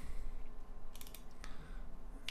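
Typing on a computer keyboard while entering a value: a short cluster of quick, light key clicks over a low steady background hum, with a final click at the end.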